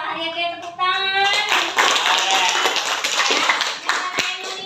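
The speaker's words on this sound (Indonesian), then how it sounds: "terima kasih ya Pak Haryati, tepuk tangan." A group applauds loudly, a steady crowd of clapping hands that continues throughout, with a few voices faintly underneath.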